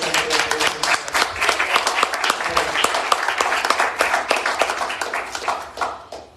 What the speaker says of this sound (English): So let's give a round of applause for Uhuru Furniture and Collectibles